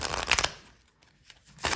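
Cards are riffled in two quick, crisp bursts, one at the start and another at the end, separated by near silence.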